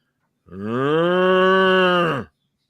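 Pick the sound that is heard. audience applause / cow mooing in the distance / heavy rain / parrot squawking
cow mooing in the distance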